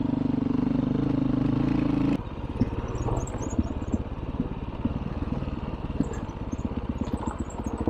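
2021 Beta 500 RRS dirt bike ridden on Almagre Mountain Road in Colorado, a loud droning engine that drops into a rough, chattering idle with clattering over rocky ground.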